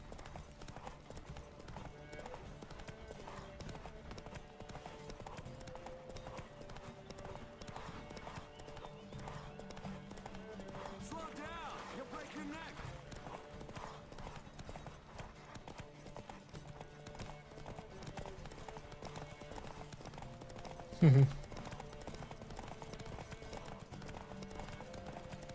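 Roach, a horse in The Witcher 3, trots with a faint, steady clip-clop of hooves under quiet game ambience, a sharp knock sounding once near the end.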